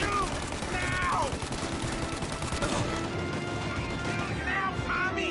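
Gunfire rattles through a shootout in the Mafia Definitive Edition video game, with dense, continuous bursts running the whole stretch and shouted voices breaking in over the shots.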